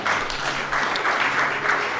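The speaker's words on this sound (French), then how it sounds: "Nous pouvons les encourager par les acclamations." Applause from an audience at a commemorative gathering, a steady dense crowd clapping that fills the whole moment at moderate loudness with no voices over it.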